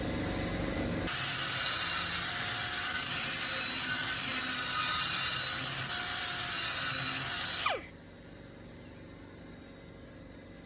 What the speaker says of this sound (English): we're gonna start grinding the inner diameter and outer diameter